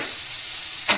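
Eggplant bharta masala fries in a pan with a steady, close sizzle that stays even, then swells briefly louder near the end.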